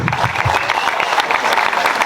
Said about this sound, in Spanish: Este aplauso para vos